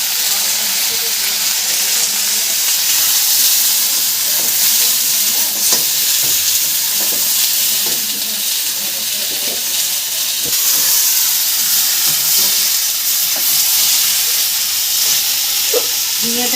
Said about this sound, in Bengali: ঝিঙেটা একটু ভাজা ভাজা হয়ে গেছে